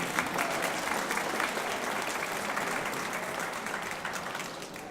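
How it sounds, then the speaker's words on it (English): A seated audience of seniors at a city symposium opening session applauds with sustained, even clapping from many hands, moderately loud and continuous for about five seconds. "Let's give another round of applause."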